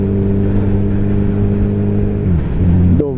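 A Hornet 250 cc four-cylinder motorcycle engine revs close by, a loud steady buzzing drone that dips in pitch and then snaps back up at the very end.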